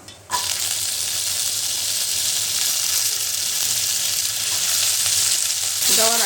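Cumin and cluster beans hit hot oil in a pan for a no-onion, no-garlic vegetable dish, giving a steady loud broadband sizzle that starts abruptly and runs unbroken throughout, with a brief clatter near the end.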